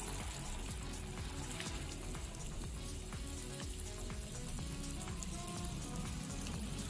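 Masala-coated sardines fry in hot coconut oil in a small pan, Kerala style, giving a dense, continuous, crackling sizzle that stays loud and steady throughout with no voices.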